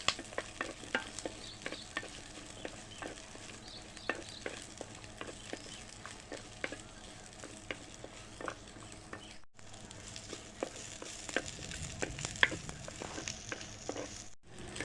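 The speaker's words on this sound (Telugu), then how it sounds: "నూనె వేడి కాగానే ఉల్లిగడ్డలు వేసుకోవాలి అల్లువల్లాగేటట్టు కలుపుకుంటూ ఉండాలి" Sliced onions frying in hot oil in a pan, a constant crackling sizzle with frequent clinking, scraping stirs close by, brief gaps in the middle and near the end, no speech.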